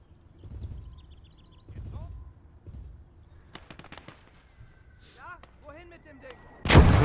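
A German sIG infantry gun firing in the World War II game Call to Arms Gates of Hell during urban fighting: several deep booming shots and distant gunfire, with a loud blast at the end, under game sounds.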